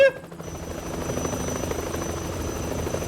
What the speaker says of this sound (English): With the fucking helicopter again?